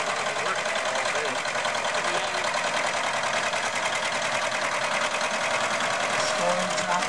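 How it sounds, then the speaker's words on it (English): A 1959 John Deere two-cylinder tractor labours hard under load at an antique tractor pull at a fair, its engine a steady, loud, dense drone that runs unbroken throughout. "This tractor is digging in there, and you see the smoke coming out as it's working really hard right now."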